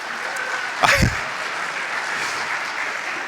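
Applause from a church audience follows a song sung from the pulpit, a soft, continuous patter of clapping from a modest crowd, with one louder close knock or thump partway through.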